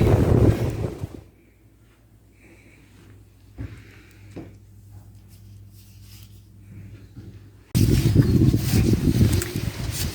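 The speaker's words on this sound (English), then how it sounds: "It's a bit windy, a bit blowy here" Rough gusts of wind buffet the microphone, fade to a quiet low hum with a few soft knocks, then return strongly near the end.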